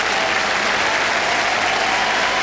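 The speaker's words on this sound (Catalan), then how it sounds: "Els primers aplaudiments de la plaça de la Vila a la colla local" A large crowd applauding in a town square at a castellers (human tower) event, with loud, dense, sustained clapping that fills the whole stretch without a break.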